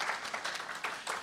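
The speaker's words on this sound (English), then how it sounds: "Give him a round of applause" Audience applause greets the speaker at a bioprinting talk, a short burst of steady mid-level clapping with no voices over it.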